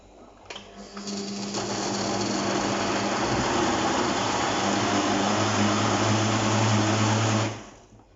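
An electric grinder whirs steadily for about seven seconds as it grinds ingredients for moimoi, starting up abruptly and then cutting off, loud and close with no voices.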